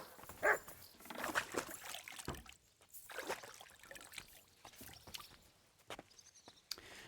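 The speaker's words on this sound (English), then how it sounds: "You silly doggy." A dog barks in Kingdom Come Deliverance 2, short sharp barks early on over watery splashing and trickling, moderately loud, no voices.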